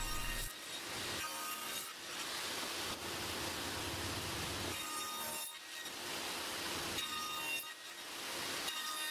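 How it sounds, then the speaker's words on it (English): Handsaw cutting the waste wood away from the tenons on the rails of an entry door, a close, steady series of rasping push-pull strokes with brief pauses between bursts. "I can cut the waste away with the handsaw."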